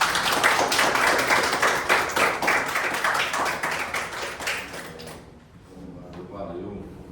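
An audience at a talk gives warm applause, a dense run of clapping for about five seconds that fades out, followed by quieter talking.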